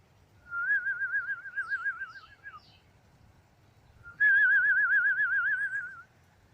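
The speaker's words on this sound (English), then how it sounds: "Oh, the birds are singing now." Birds singing just after rain stops, two long sweet whistled warbling phrases with a pause between, clear and fairly close over a faint low background rumble, no voices.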